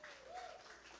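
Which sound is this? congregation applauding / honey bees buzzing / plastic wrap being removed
congregation applauding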